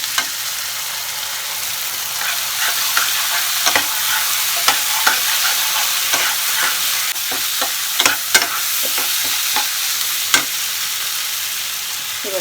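Cashew paste masala being sautéed in a pan, a steady sizzle and hiss with repeated scraping taps of a spatula stirring through it, close and fairly loud, no voices.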